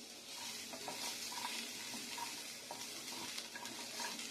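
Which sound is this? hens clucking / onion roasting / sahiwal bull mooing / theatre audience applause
onion roasting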